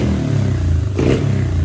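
A cheap pit bike's small engine revving loud and close, a rough buzzing drone that surges in a quick throttle blip near the middle before settling back.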